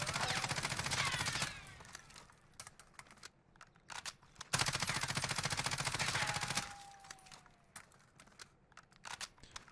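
Ram 7 rifle fire in Warzone during a recoil test, two sustained bursts of rapid automatic shots, each lasting about two seconds, loud and close, with quieter trailing shots and faint game ambience between them.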